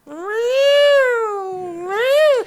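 A voice imitates alley cats yowling, one long wavering meow-like wail that rises, dips and swells again before cutting off, loud and close.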